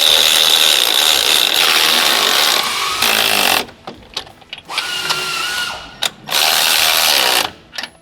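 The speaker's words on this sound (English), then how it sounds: "So we got what we can with the electric ratchet" An electric ratchet tightens U-bolt nuts on a Nissan Xterra, running in a long buzzing burst and then several shorter, choppy bursts with brief quiet gaps, loud and close.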